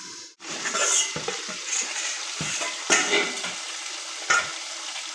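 Goat meat frying in a pan and being stirred, giving a steady close sizzle with repeated scraping stirs and a few sharper utensil clinks against the pan.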